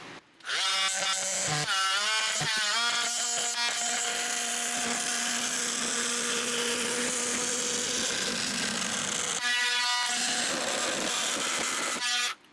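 A loud, continuous buzzing oscillating multi-tool whines and grinds steadily for about twelve seconds cutting a jon boat hull, its pitch wavering slightly as it cuts, with brief pauses near the start.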